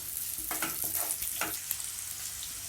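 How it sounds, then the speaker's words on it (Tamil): Onions, green chillies and curry leaves sauté in hot oil with a soft, even crackle and faint stirring scrapes, heard at low level with no talk. "கட் பண்ணி வச்சிருக்க வெங்காயம் போட்டுக்கோங்க அது கூடவே பச்சை மிளகாய் கருவேப்பிலை போட்டுக்கோங்க நல்லா வதக்கி விடுங்க"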